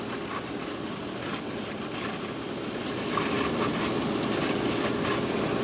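A hot tub pump runs with a low, steady mechanical hum and faint whooshing water churn, unbroken and close, swelling slightly louder partway through.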